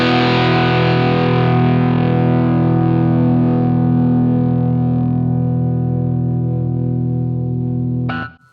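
Distorted electric guitar through a Line 6 Helix using its internal 4038 cabinet, one sustained chord ringing loud and steady for about eight seconds before cutting off abruptly.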